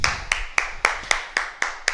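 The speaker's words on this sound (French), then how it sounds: "Et on s'applaudit, guys." A karate class applauds itself in unison, with eight sharp, evenly spaced claps about a quarter second apart, loud and close.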